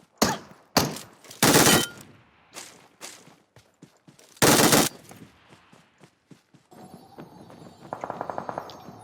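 Automatic gunfire in PUBG Mobile rattles out in loud bursts, two sustained volleys and several shorter ones, followed by quieter rapid shots and in-game ambience near the end.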